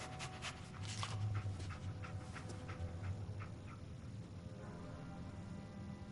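Dogmeat, the dog companion in Fallout 4, panting and sniffing steadily up close over a constant low ambient game background, with no talking.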